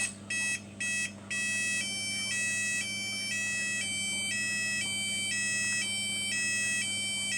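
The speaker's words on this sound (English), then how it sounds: "showing you our wireless alarm" A wireless home alarm system sounds a loud, steady electronic alarm tone that pulses in a regular, repeating rhythm, close by and continuous, with no talk over it.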